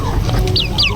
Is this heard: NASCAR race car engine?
no